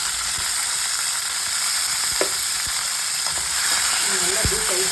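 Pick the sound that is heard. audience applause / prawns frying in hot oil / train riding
prawns frying in hot oil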